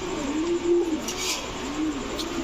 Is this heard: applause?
no